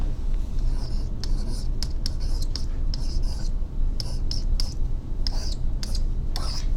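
Pen strokes on paper during a chemistry stoichiometry lesson, a steady scratchy scribbling in short bursts, close and fairly quiet over a low background hum.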